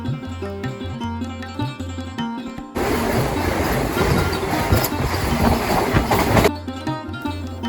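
A local train heading from Balichak toward Howrah in West Bengal runs along the rails, a loud steady rumble and clatter that swells in mid-stretch, with quieter musical tones before and after.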